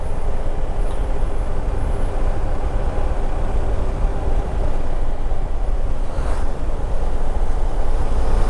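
River water rushing near Hasanur, a dense continuous roar of flowing water mixed with wind buffeting the microphone, loud and unbroken throughout with no talking.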